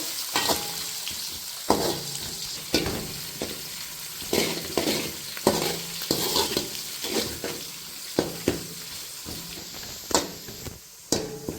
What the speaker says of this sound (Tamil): சின்ன வெங்காயம் இது நாலா நாளாக அரிஞ்சு வச்சுருக்கேன் நூறு கிராமு இருக்குல்ல அது பொன்னரமாக செவந்து வரட்டும்